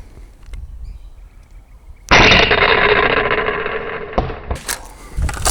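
A Nerf blaster firing a dense foam dart: a sudden sharp launch burst after a quiet stretch, followed by a sustained whoosh and a couple of smaller pops or impacts.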